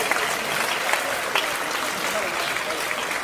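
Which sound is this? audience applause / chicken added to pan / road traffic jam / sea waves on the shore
audience applause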